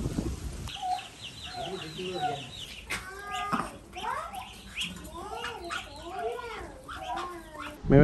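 Chickens cluck and call repeatedly at a farm in a Jaffna village, the calls scattered and fairly close, with people talking in the background throughout.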